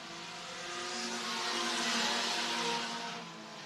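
Sport compact race cars roar down the back straightaway at Worthington Speedway, engines swelling louder as the pack passes close, then fading, with a steady whine throughout.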